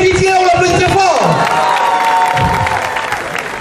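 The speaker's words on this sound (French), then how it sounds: "Applaudissements pour le père, le grand frère" A festive crowd at a Valentine's Day celebration in Anono claps and cheers for a Zouglou dancer, loud sustained applause mixed with shouts and an amplified voice over it.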